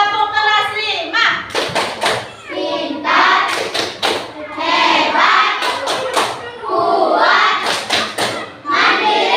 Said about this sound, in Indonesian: tepuk kelas 5